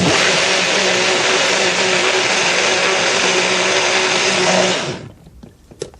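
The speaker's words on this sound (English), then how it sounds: "And then we're going to blend this back." A kitchen blender whirs loudly and steadily for about five seconds, pureeing chicken stock with cilantro, cumin, red pepper and salt, then spins down and stops, leaving faint clatter.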